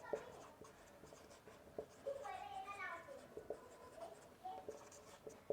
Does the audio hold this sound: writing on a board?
yes